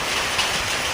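Heavy rain mixed with hailstones falls in a dense, loud, continuous roar, close and unbroken, with a brief sharper clatter near the middle and no voices.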